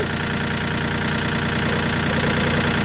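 A KIOTI tractor engine idling in extreme cold, a steady, close diesel rumble with an even knocking rhythm that holds constant throughout, with no voices.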